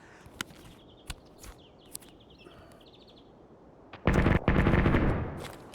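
Gunfire in Escape from Tarkov PvP: a few sharp distant shots spaced apart early on, then a loud sustained burst of automatic fire lasting over a second, followed by a second dense volley.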